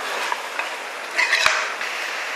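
Ginger garlic paste sautés in a pan for mutton kuzhambu, giving a soft, steady frying hiss broken by a few light clicks and one sharp knock near the middle.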